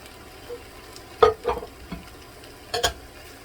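Tomatoes and garlic go into a gumbo pot for keto chicken and sausage gumbo, giving a few soft sizzles and stirring scrapes in scattered bursts, fairly quiet and close.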